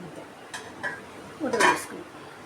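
A metal lid is set onto a cooking pot of fish curry, giving a couple of light taps and then a short, brighter clanging rattle, close and fairly quiet against soft kitchen background.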